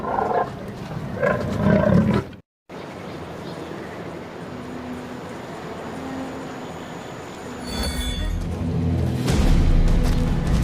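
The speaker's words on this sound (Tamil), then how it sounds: "ஒரு வங்காள புலியோட உருமல் 2 கிலோமீட்டர்களுக்கு அப்பால கூட கேட்கும்." A Bengal tiger in the Sundarbans mangrove forest of the Ganges delta gives deep, rumbling roars and growls, with a brief silent gap and a louder, harsher roar near the end over a constant outdoor background.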